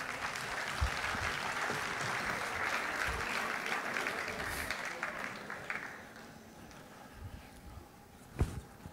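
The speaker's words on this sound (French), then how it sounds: "Et je vous propose de les applaudir très fort." An audience applauding after an aerial straps act at an awards gala at the Royal Palace, a dense, sustained clapping that carries on for several seconds before thinning out, with a few scattered claps and a sharp knock near the end.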